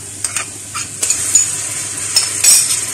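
Onions sizzle in a pan as ginger-garlic paste goes in and a spoon stirs them, with sharp scraping clinks against the metal recurring over a low, steady fry, close up and without voices.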